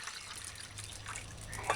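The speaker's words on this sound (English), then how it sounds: "Ensure to pour drink in a bottle with a lid" Cherry juice drink trickles into a lidded bottle, a short, soft, continuous liquid pour heard close up with a faint dribbling texture.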